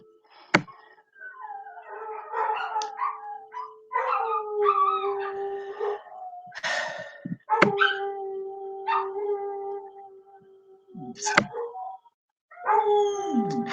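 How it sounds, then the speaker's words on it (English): A dog howls along to tornado sirens in Little Rock, Arkansas, its long wavering howls rising and falling in separate bursts, with a few sharp yips between them and short quiet gaps, close to the microphone. "please ignore the howling in the background"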